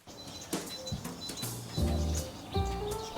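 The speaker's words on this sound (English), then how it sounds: "I woke up to the sound of birds singing." Birds sing and coo in the calm morning after a thunderstorm at a rainy campsite, with several short tonal calls and low cooing phrases repeating close by.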